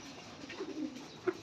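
Racing pigeons perched together give soft, low coos, faint and fairly distant, with a slightly louder coo near the end over a quiet background.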